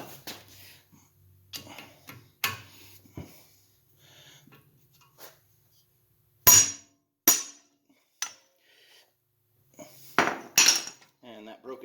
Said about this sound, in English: I've picked up an impact screwdriver